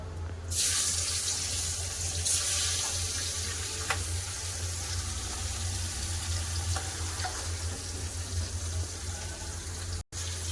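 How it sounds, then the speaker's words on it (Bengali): Fish frying in oil in a wok, a steady broadband hiss and sizzle running continuously with a low hum beneath, close and fairly loud, with a brief clatter near the start and no talk. "বাকি মাছগুলো আমি ভেজে নেবো"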